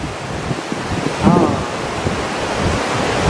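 A flooded river rushes through a valley near Guelmim, Morocco, in a loud, constant broadband roar with wind noise, and a brief voice rises faintly over the torrent partway through.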